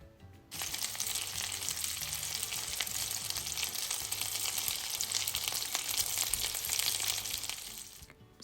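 Lamb chops sizzle and crackle loudly in a hot pan with butter while being basted, a dense, continuous frying hiss that starts abruptly and stays steady until cutting off near the end.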